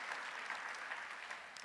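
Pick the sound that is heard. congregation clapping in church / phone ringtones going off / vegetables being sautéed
congregation clapping in church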